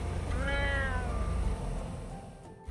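A cat meows at the Hemingway Home in Key West, giving one clear, close, drawn-out meow over a low background hum.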